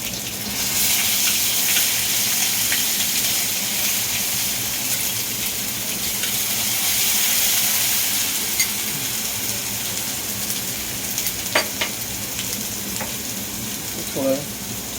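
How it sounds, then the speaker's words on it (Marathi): Ginger-garlic paste sizzles steadily in hot tempering oil for dal khichdi, a loud, continuous close frying hiss with occasional small pops and crackles near the end. "चांगलं तडतडू देतो. तडलं की आता 2 चमचे जे आलं लसूण पेस्ट घेतली आहे ती टाकते."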